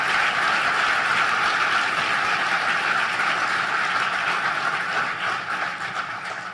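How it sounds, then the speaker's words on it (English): A large crowd applauds steadily and loudly, a dense wash of clapping that carries on without pause and fades only slightly toward the end. "let's give the government of Mexico a vigorous round of applause"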